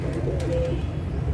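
Pigeons coo among garden plants close by, a soft low repeated cooing against a steady background hum.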